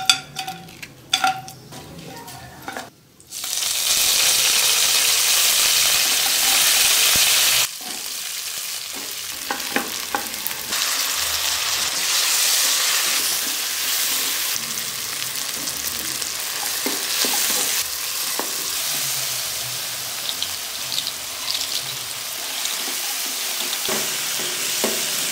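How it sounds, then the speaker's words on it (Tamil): Chopped shallots, garlic and tomatoes sautéing in an oil pan for a tamarind curry, a steady loud sizzle with brief pauses and occasional stirring scrapes and clinks throughout, no voices. "சின்ன வெங்காயம் பூண்டு தக்காளியெல்லாம் கட் பண்ணி வச்சுருக்கோம், அதெல்லாம் சேர்த்து நல்லா வதக்கிக்கலாம்"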